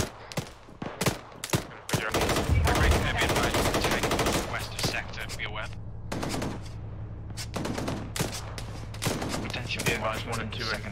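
Gunfire in a military video game firefight: scattered single shots at first, then a long sustained automatic burst, followed by intermittent cracks and short volleys over a low steady hum.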